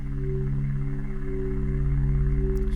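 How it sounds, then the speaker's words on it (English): A pulsing Metropolis synth preset from GarageBand holds steady sustained tones with a rhythmic low throb, loud and alone with no voices. "The other one is this sound called Metropolis, which is this sort of pulsing sort of sound"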